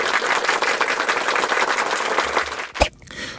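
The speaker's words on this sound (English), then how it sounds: "Give her a round of applause." An audience gives a guest a round of applause, dense clapping that holds for about two and a half seconds and then stops abruptly with a sharp crack.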